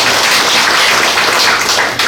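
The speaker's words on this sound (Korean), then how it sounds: "사업회장님께 다시 한번 박수 부탁드리겠습니다." Lecture audience in Korea giving a round of applause, a steady, dense wash of many hands clapping close by, continuous for the whole stretch with no talking over it.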